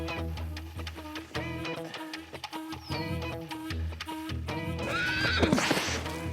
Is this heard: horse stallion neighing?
yes